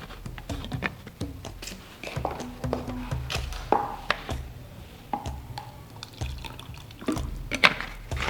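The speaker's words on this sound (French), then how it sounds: "Je mets de l'eau pour nettoyer un peu, bien que c'est déjà nettoyé." Water poured to rinse equipment while a cosmetic lotion is being made, a light liquid splashing and trickling with scattered clinks and knocks of containers, close and fairly quiet.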